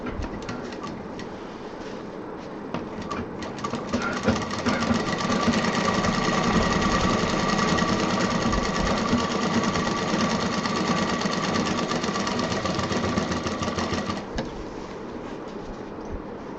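A sewing machine stitches fabric for a bag, with a quick, even mechanical whir running steadily for about ten seconds between quieter stretches before and after.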